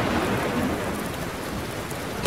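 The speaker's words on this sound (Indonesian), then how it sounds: "Mungkin hujan tidak akan reda sebelum ayam pertama berkokok." Heavy rain pours steadily in a cartoon fairy-tale scene, a dense, even hiss of falling water with no talking, ending in a brief louder splash.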